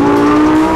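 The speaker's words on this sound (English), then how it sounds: "I'm driving a Tesla Model S" A 2014 Tesla Model S, a fully electric luxury car, drives along with a steady, loud hum and a sustained tonal whine, with no talk.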